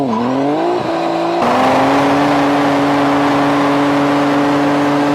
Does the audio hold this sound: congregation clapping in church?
no